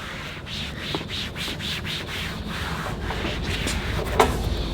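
An applicator pad rubs plastic trim restorer onto car trim with a steady scratchy swishing in quick back-and-forth strokes, close and fairly quiet.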